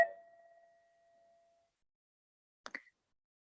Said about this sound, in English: when you hear the sound of my bell, you can open your eyes